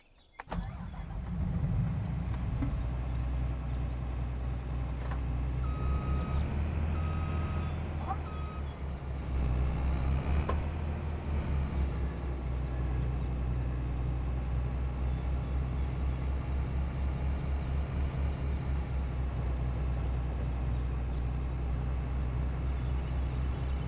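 Farming Simulator 22 combine harvester engine starting and then rumbling steadily as it drives, a loud continuous low drone with a brief reversing beep early on.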